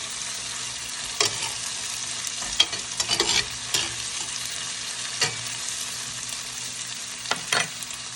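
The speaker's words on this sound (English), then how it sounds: "I'm gonna let this saute" Hot chili peppers sauté in a pan for a Jamaican-style meal. A steady sizzle runs throughout, broken by several sharp scrapes and clatters of stirring. The pan sounds close, and no one speaks.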